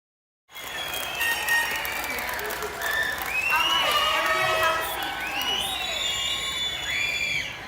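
At a high school graduation ceremony, a large crowd breaks into sustained applause with cheering, whoops and shouting that swells and holds steadily loud throughout, with voices shouting over the clapping.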